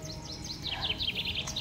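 Small birds chirping outdoors among spring flowers, a run of quick, high repeated tweets at moderate distance with no voices.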